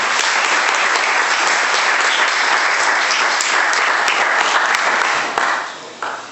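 Vigorous audience applause at a book party for a Hindi poetry book, dense and loud clapping sustained for several seconds before tapering off and thinning out at the end.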